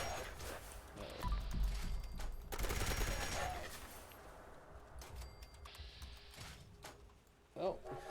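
Gunfire in a Dune video game, several loud cracks and bursts scattered across the scene with a sharp late report, over game ambience and intermittent talk.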